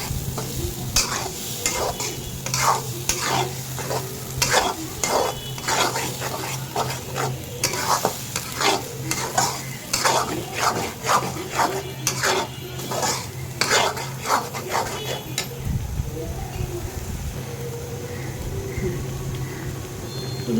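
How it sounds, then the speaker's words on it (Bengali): Vegetables and coconut paste are stirred in a sizzling pan, with a utensil scraping the metal in a steady repeated rhythm over constant frying hiss, close up and without speech. "ওই নারকেল বাটাটুকু দিয়ে দিলাম, নারকেল পেস্টটুকু দিয়ে দিলাম। এবার সবগুলা ভালো করে কষে নেয়।"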